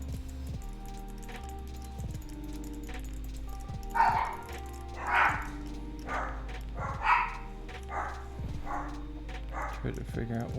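Several small puppies bark and yip in short bursts over a steady background of tonal music, with someone talking at times between the barks.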